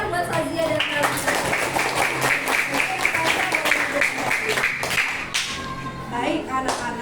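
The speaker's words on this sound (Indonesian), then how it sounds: "Tepuk tangan buat Sazia dan Talita" Schoolchildren in a classroom clap for two classmates after a group presentation, a loud, dense flurry of hand claps with some rhythmic patting that fades near the end, and voices mixed in.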